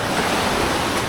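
Sea waves near Sohoton in Siargao make a steady, loud, dense rush of surf with a wind-like hiss, alone and unbroken.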